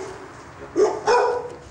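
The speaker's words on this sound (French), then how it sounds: "Voici Vérone, un dog argentin d'1 an et demi." A Dogo Argentino, a year and a half old, gives two short barks close by, the second slightly longer, over faint room noise.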